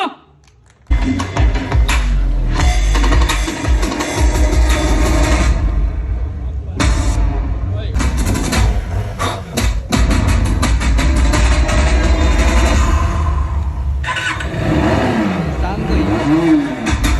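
A Harley-Davidson X350 motorcycle roars into a loud, sustained engine rev at its launch event, running steadily for most of the stretch after a brief quiet start, with crowd noise mixed in.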